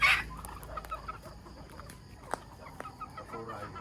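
Soft, scattered clucks from chickens nearby on a farm in the Philippines, with a brief louder call at the start and a few short clucks spread across the quiet.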